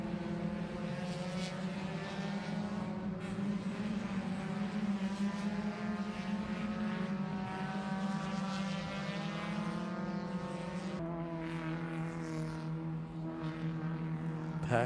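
Prospec Miata race cars in a qualifying session drive past, with steady droning engine notes that rise and fall in pitch as the pack moves through the turns, loud and continuous.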